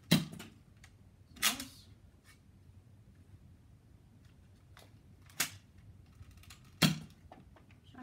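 A Nerf blaster fires AccuStrike foam darts at a target, giving four sharp, separate snaps spread unevenly across a quiet indoor room, close to the listener with no talking.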